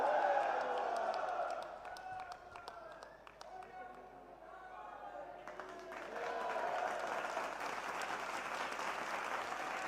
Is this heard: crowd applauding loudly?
yes